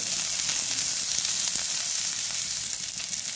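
Grated ingredients and chopped onion fry in a pan for white sauce pasta, giving a steady, close, even sizzle with a few faint stirring ticks and no voices.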